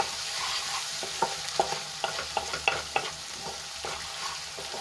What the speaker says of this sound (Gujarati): મિક્સ કરીને આપણે એને અડધી મિનિટ માટે સાંતળી લઈશું જેથી કરીને આદુ લસણ અને મરચાંની કચાશ દૂર થઈ જાય